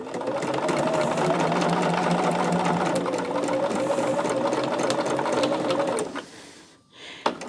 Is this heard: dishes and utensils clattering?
no